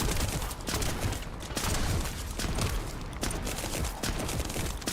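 Rapid, dense gunfire from a shotgun and other weapons roars through a firefight in the video game The First Descendant, loud and sustained with barely a pause.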